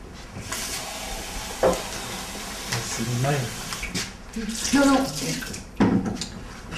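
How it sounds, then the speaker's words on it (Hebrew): Water pours steadily from a vessel for ritual hand washing, a continuous nearby splashing and hiss that keeps going while people talk over it. "נטילת ידיים."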